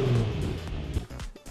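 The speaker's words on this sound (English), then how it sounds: "I said give me one of those hot boy revs." A Nissan G35's engine revs loudly and steadily, a deep throaty roar that holds for a moment before dipping briefly near the end.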